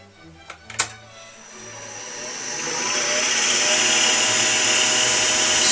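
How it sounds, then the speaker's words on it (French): A short bit drills into spinning wood on a lathe after a few sharp knocks at the start. The whine and rushing grind swell steadily louder and hold close. No voices are heard. "Je fais un premier trou avec une mèche courte."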